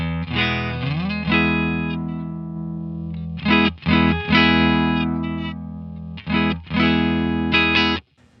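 Electric guitar through an Atomic Amplifire amp modeler with a straight level boost, distorted amp tone, loud chords struck and held in choppy bursts with short gaps, ringing with a slight chorus shimmer.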